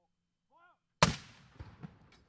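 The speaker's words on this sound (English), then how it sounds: "The 21-gun salute is being conducted with 4 105mm ceremonial guns." A single loud boom from a 105mm ceremonial gun firing in a 21-gun salute, an abrupt sharp blast that rolls into a long decaying rumble with faint echoes, preceded by a brief quiet whistle-like tone.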